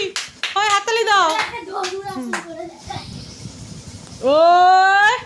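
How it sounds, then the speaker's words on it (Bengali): Children clapping their hands at home in a short burst of sharp, uneven claps, mixed in with excited children's chatter and high voices that continue around them. "হাততালি হয়, হাততালি দাও"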